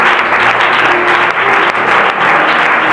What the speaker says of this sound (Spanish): Más fuerte, aplauden al Señor